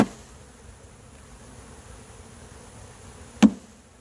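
A low, steady hum of many honey bees buzzing together at a hive, close and continuous, with a sharp knock partway through.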